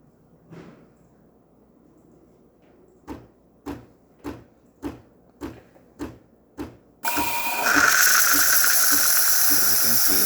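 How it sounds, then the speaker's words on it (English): A Saeco espresso machine's steam wand after a full tune-up: a quiet stretch of regular clicking pulses, then a loud, steady, broadband hiss of steam that keeps going to the end. "Really good steamer coming out of the machine, excellent temperature, working perfectly fine."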